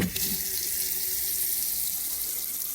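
Water runs steadily from a low, automatic shut-off sink tap in a toddler classroom, a constant close hiss that fills the whole stretch with no talking.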